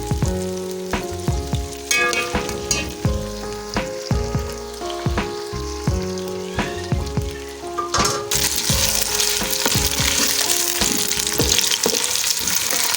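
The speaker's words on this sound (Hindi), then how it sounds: "जब तक आलू फ्राई हो रहे हैं," Potatoes fry in a pan for Aloo Tahari, a steady loud sizzle that swells sharply partway through, with occasional stirring scrapes and clinks of the utensil against the pan.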